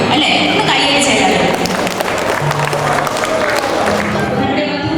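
Wedding guests applaud together, a dense, loud and steady wash of clapping from a large crowd with cheering and voices mixed in.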